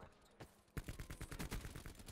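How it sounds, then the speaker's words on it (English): Explosions and rapid gunfire from the shooter game Black Ops 4, a quiet lull broken by a sharp blast, then dense, loud overlapping shots and bursts continuing without pause. "That's a lot of explosions."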